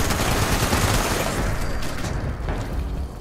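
A two-shot explosive .50 cal machine gun fires in a video game, a dense, loud, continuous barrage of shots and blasts that eases slightly toward the end.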